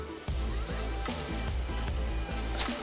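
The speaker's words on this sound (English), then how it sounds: "I love my yellow corn tortillas and we're going to deep fry them" Yellow corn tortillas deep frying in hot oil give a steady, dense crackling sizzle that starts abruptly and stays loud and close throughout, with a few soft knocks.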